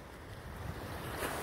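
Water washing steadily against a ferry during a crossing toward southwestern Michigan, a continuous broadband rush of waves mixed with wind noise, fairly faint and even throughout.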